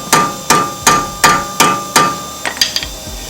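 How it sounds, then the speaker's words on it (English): Hammer blows on a brake rotor being knocked loose during a front pad and rotor replacement: six sharp, evenly spaced metallic strikes, close and loud, followed by a few lighter quick taps. "need to hit it to get it loose easier"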